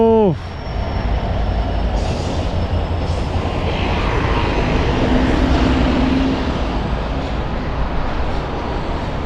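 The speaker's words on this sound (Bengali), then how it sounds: "শ্রীলঙ্কার ট্রেন আসছে" A Sri Lankan train runs along the seaside and passes nearby with a loud, continuous rumble and roar. It starts with a falling horn-like tone and holds a broad, steady rush for the rest of the clip.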